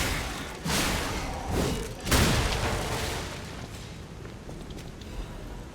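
Heavy leaping weapon attack landing in Lies of P, a series of deep booming thuds with one big crushing impact in the middle, each fading into a rumbling tail.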